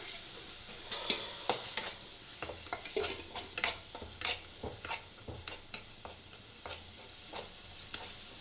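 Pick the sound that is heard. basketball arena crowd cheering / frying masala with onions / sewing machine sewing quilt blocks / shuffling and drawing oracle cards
frying masala with onions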